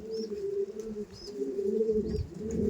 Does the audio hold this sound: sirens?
no